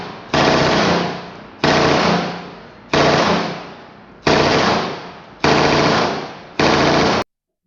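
MG42 machine gun firing six loud, sustained bursts of very rapid fire, each lasting about a second and separated by brief pauses, with an abrupt end.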